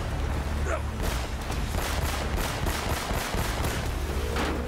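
Rapid bursts of gunfire from the video game Uncharted: Drake's Fortune, loud and sustained, with repeated shots crackling over a dense battle din for nearly five seconds.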